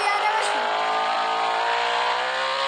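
Engine of a car in a Roblox game, a steady loud revving drone that holds for the whole short stretch, with a brief squeal near the start.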